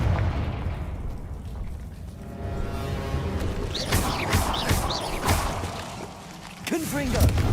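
Fiery Confringo spell blasts in Hogwarts Legacy burst out amid busy game sounds, with several booming impacts in the middle and near the end, partly under a voice.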